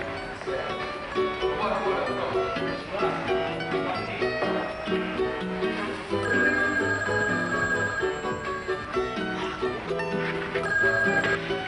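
A telephone bell rings repeatedly in a 1996 Brazilian television drama, steady and fairly close, layered under continuous background music.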